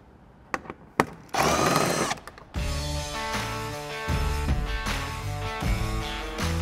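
Power tool backing out inner guard screws on an Isuzu D-Max: a few sharp clicks, then bursts of whirring drill motor with short pauses between runs, close and fairly loud.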